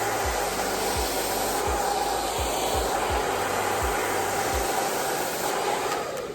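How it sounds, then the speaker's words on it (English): A hair dryer blows steadily and loudly at close range, a continuous airy roar while hair is brushed, with a series of low thumps from the brush strokes and no talk. "what we're gonna do is turn the blow dryer on and slowly lift from the root while leaning to the side"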